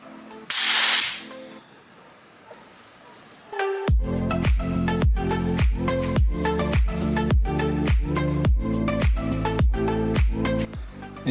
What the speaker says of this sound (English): So let's get it filled up with the clear and let's get that sprayed in.